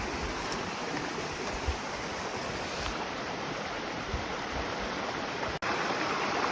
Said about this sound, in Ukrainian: Дзюрчить везде водичка.